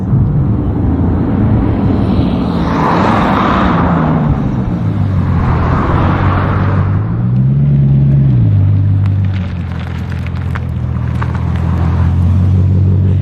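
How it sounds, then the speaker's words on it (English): A Bugatti Chiron Sport engine roars steadily, rising and falling in pitch as it revs, with a whooshing turbo hiss swelling over the deep rumble. "when you're driving it and you hear the turbos"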